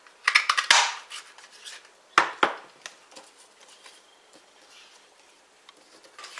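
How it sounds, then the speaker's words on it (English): Scissors snip through card to cut out a word for a handmade gift card, a few crisp close cuts at the start, then two sharp snips and quieter trimming. "we'll cut out the word friend"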